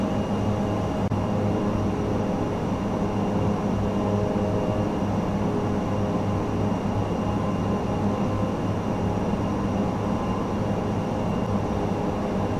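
ATR 72-600 turboprop airliner cruising in Microsoft Flight Simulator 2024, a steady loud cabin drone of engine and propeller hum with a broad roar, constant and unbroken, no voices.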